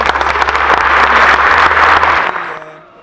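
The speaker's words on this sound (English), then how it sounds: "Amazing claps" A TEDx audience claps loudly and fully as a speaker is welcomed to the stage, with walk-on music playing underneath. The clapping swells, then tapers off, and the music fades out at the end.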